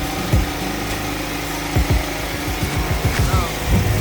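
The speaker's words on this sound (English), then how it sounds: "It has started the generator." A generator that an IoT automatic changeover has started runs close by, a loud rough engine drone with uneven low pulses throughout.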